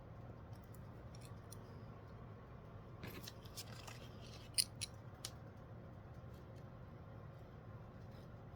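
Scissors cut paper in sparse, faint snips and clicks over a steady low hum, with one sharper snip standing out midway; no voices are heard.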